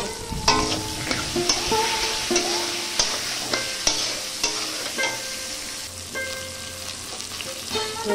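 Salted food, with fish to be added later, frying in a pan as a spoon stirs and scrapes it in repeated strokes over a steady close sizzle, with no voices.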